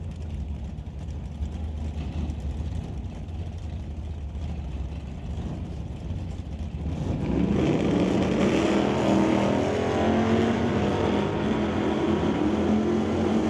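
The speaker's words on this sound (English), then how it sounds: "here we go, another pair, couple of Chevrolets." Drag racing pair of Chevrolets, a red Chevelle and a black Nova, at Mission Raceway Park during old-time drags qualifying: steady rumble at first, then a loud broadband engine roar surging up from about seven seconds and holding to the end.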